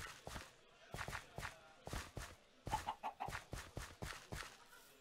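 Chickens in the Minecraft video game clucking in short repeated bursts, a steady run of close, moderately loud clucks with a few footstep-like taps mixed in and no talking.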